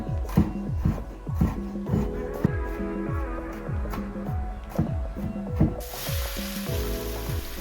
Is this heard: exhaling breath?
no